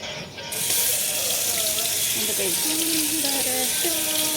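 Running water splashes steadily from a tap as hands are washed at a kitchen sink, a loud continuous rush with faint clinks under it.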